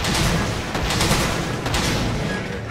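Normal S ammo fires and ricochets underwater in Monster Hunter 3 Ultimate, a dense, loud wash of rapid overlapping shots and booms that continues without a break.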